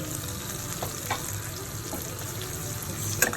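Garlic sautés in a pan with a steady, close crackling sizzle. Occasional spoon scrapes and a sharper clink near the end break through the frying.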